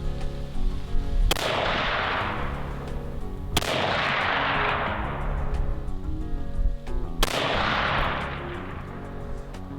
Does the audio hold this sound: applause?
no